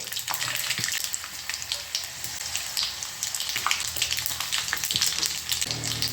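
Continuous crackling sizzle of ridge gourd frying with turmeric and red chilli in a hot pan, with scattered pops and light scraping, no voices.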